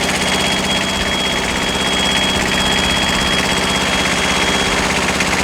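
The diesel engine of a CTE 230-75 spider lift runs at a steady idle nearby, a dense, vibrating rumble that holds constant from start to finish.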